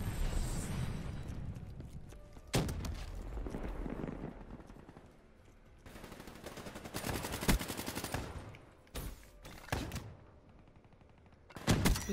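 Gorgon gunfire in Black Ops 3 team deathmatch: irregular bursts of heavy, booming shots, some spaced out and some rapid, with quieter game noise between them.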